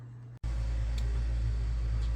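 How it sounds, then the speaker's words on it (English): A neighbor's lawn mower drones steadily in the background, a constant low engine hum with a buzzing tone that runs without a break after a brief cut, no talking heard. "My neighbor is mowing."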